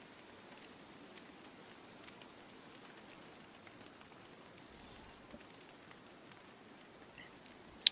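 Steady, soft rain hiss in the video game Don't Starve, faint and continuous throughout with a few small drip-like ticks, and no talking over it.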